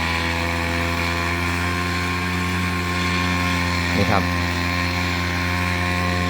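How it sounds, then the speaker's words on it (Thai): An engine-powered rice seed blower broadcasts seed over a paddy field, its motor droning steadily and loudly with a strong tonal hum while someone speaks briefly. "นี่ก็คือเครื่องพ่นข้าวนะครับ เครื่องพ่นข้าว ก็จะรวดเร็วกว่าใช้แรงงานคนนะครับ"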